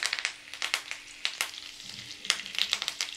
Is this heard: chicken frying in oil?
yes